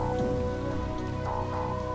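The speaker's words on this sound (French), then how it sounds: "Mais il commence à pleuvoir." Rain falls steadily on a hard surface, a dense continuous patter of drops with no voices.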